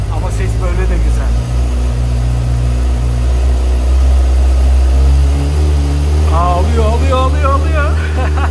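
A Kawasaki ZX-6R sport motorcycle engine is started for the first time and runs loudly up close, idling with revs rising and falling while someone talks over it.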